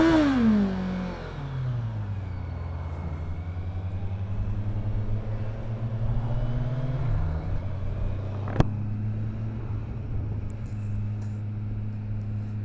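A Kawasaki Versys 1000 S adventure-touring motorcycle rides along steadily, its engine droning and rumbling with smooth pitch changes as it shifts and accelerates, alongside constant wind and road noise, with one sharp click partway through.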